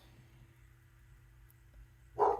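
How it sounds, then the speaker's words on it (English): A house dog lets out a single short, sharp bark at a neighbor, breaking an otherwise quiet indoor hum right at the end. "And our dog always has to bark at our neighbor."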